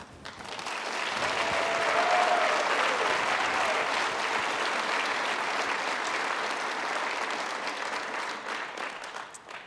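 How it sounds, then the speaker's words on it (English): Sustained applause from a large crowd, steady and full for nearly ten seconds, swelling early then holding before easing slightly toward the end. "I think that applause probably says it all."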